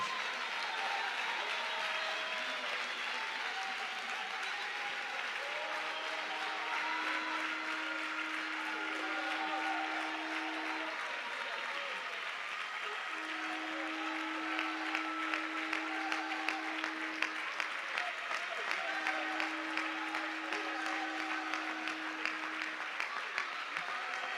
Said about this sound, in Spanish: Alguien suelte un aplauso al nombre de Jesús.